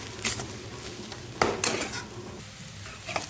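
Food being stirred and broken up into crumbly bits in a pan over a low stove flame, giving soft scraping strokes and light sizzling with a few louder clatters of the spoon against the pan.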